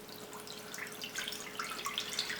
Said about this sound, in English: So we're going to pour our hot water into our Pyrex dish.